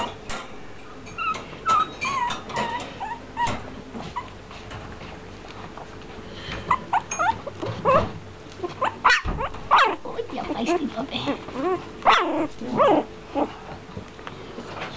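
Four-week-old Brussels griffon x Jack Russell terrier puppies whimper and yip in scattered, overlapping bursts, fairly close, with occasional background voices.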